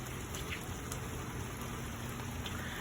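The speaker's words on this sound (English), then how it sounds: "It's raining." Steady rain falls outdoors in a continuous soft patter, with a few scattered droplet taps and no voices.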